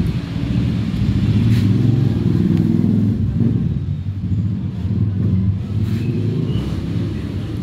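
A Honda PCX 160 scooter engine starts and settles into a steady low idle rumble, close and fairly loud, with no talking.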